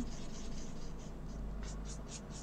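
Coloring a card with a fluorescent pink "flamant fougueux" marker: quiet, repeated short squeaky strokes of the felt tip over paper, close and soft, in an irregular rhythm with low background hum.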